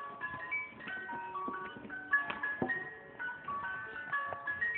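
A wound jack-in-the-box toy plays its tinkling music-box tune, quiet and continuous, with plucked notes in a steady, bouncy melody and no talking.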